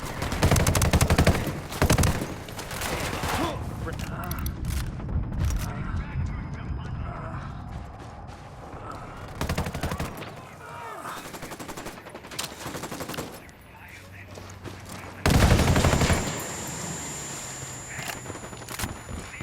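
Gunfire in the Bolivian setting of Ghost Recon Wildlands: loud bursts and volleys of shots in uneven clusters, with a heavy barrage at the start and another near the end, under a steady bed of game ambience and occasional voices.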